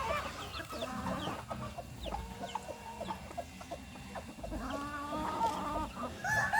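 Chickens cluck and chatter close by in a steady, busy flurry of short calls, with a faint crow-like call near the end.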